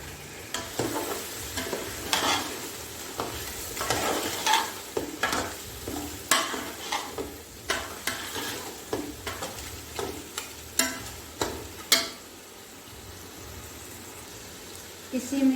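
Chicken pieces cooking in a pan for a beef chana pulao, with a steady sizzle broken by repeated scraping stirs and clinks, fairly close and moderately loud.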